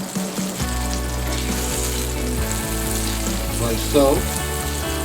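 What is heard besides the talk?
butter sizzling in a pan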